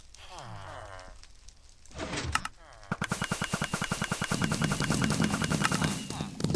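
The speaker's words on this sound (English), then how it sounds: "There's fireworks and fiery arrows going on" Fireworks and fiery arrows erupting in the Minecraft video game, a rapid, dense burst of popping, crackling blasts after about three seconds, loud and close, preceded by brief voiced sounds.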